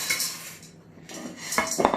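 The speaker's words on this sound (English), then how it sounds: "So we've got 200 grams of pasta. So I'm just going to pour it in here." Dry gluten-free pasta poured from a packet into a metal pan, a bright rattling clatter of hard pieces striking the pan, with a short pause before a second louder burst of pouring.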